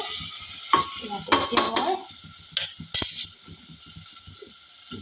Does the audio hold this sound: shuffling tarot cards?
no